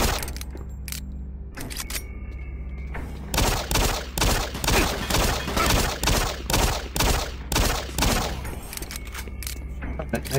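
Rapid automatic gunfire in the video game DOOM 3, a loud sustained burst of machine-gun shots in a steady rhythm after a quieter opening, with someone talking over parts of it.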